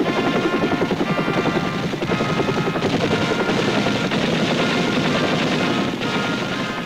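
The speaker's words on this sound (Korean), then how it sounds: "가상적 헬리콥터가 광화문 광장에 착륙하자 대공화기로 이를 즉각 추적했습니다" A helicopter lands in Gwanghwamun Square during a civil defense drill, its rotor beating in a steady, loud, rapid pulse throughout with no voices.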